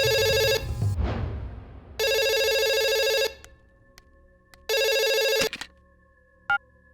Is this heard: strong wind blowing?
no